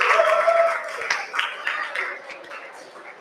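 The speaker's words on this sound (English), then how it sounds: "So let's just give them a cheer" A live festival crowd at a TeleTrip event cheers and claps for prize winners, a dense wash of voices and applause that stays loud for a few seconds before easing off slightly.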